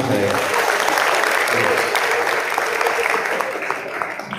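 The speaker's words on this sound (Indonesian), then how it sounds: "Bagus, tepuk tangan." Schoolchildren clapping together in a room, a steady, dense wash of applause that holds loud throughout and eases off slightly toward the end, with a few voices mixed in.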